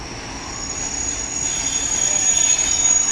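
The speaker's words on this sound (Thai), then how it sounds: "กำลังจะเข้าเทียบสถานีชานชาลาที่สาม" A passenger train from Kaeng Khoi Junction bound for Khon Kaen rolls into platform three at Ban Phai railway station, wheels squealing loudly with a high sustained screech over a steady rumble.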